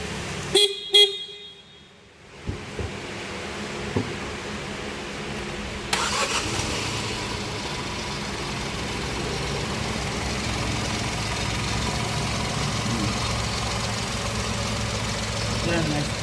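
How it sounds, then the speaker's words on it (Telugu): A Hyundai i20 with a turbo GDI petrol engine and DCT transmission starts with a brief cranking burst, then settles into a steady, close idle hum that continues to the end. "వెహికల్ మేము లోపల కూర్చొని స్టార్ట్ చేస్తాను."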